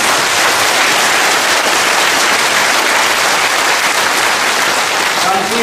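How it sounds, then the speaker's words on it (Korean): Loud, sustained applause from a large audience welcoming a retired navy major general, a dense wall of clapping held close and steady throughout without a break. "박수 한번 보내주시겠습니다."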